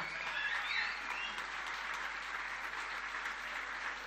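Audience applause at a live concert, a moderately dense wash of clapping that holds steady for several seconds, with a few faint whistles early on.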